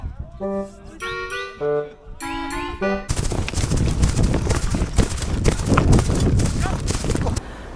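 Dense, rapid hoofbeats of horses in Inner Mongolia pound continuously on hard ground, loud and close, following a short stretch of voices talking.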